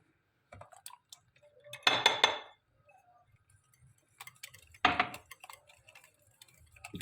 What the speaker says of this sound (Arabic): احنا بنضربها بالمضرب اليدوي